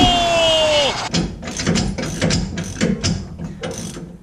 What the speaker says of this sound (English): we're going to turn nuts in a clockwise direction